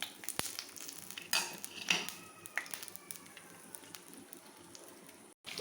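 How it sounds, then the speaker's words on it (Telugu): Cashews, raisins and almonds fry in ghee in a pan for a sweet rice payasam, a quiet, steady sizzle with a few spatula scrapes and clicks close by, with no talking. "ఇప్పుడు నెయ్యి వేసుకొని ఇవి డ్రై ఫ్రూట్స్ని మనం ఫ్రై చేసుకుందామండి"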